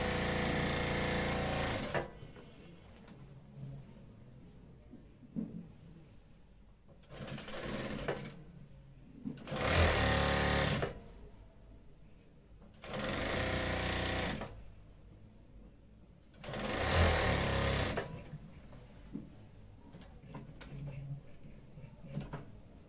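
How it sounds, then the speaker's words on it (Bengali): A sewing machine stitching the sleeve border of a school kameez, several loud bursts of rapid mechanical whirring separated by quieter pauses with soft handling sounds. "হাতের মুখের বর্ডারটা এভাবে সেলাই করে নেবেন।"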